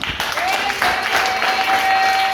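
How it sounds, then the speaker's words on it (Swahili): A church congregation applauding during a sermon, a continuous wash of clapping from many people, with voices and a sustained tone running beneath it. "Makofi zaidi sana."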